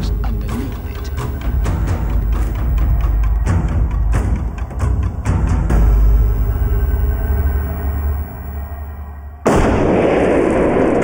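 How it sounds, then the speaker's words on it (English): Explosives detonate beneath a ten-ton Marauder military vehicle, giving a series of loud, sharp blasts and crackling impacts over heavy rumbling, followed by a sudden burst of roaring noise near the end. "what happens to the Marauder when you put the same amount of explosives underneath it?"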